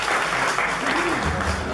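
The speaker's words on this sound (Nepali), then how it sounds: "ताली बजा के स्वागत कर देवे के लिए हम प्रचार आग्रह" Loud, steady applause from a seated audience welcoming guests at a Rashtriya Dalit Patrakar Sangh Nepal gathering in Janakpurdham, continuous clapping with faint voices underneath.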